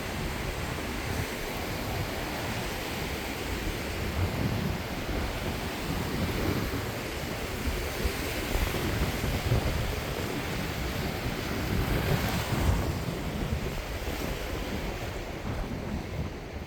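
Surf washing steadily into an enclosed beach in Tasmania, a continuous broadband roar of breaking water with wind buffeting the microphone, no voices.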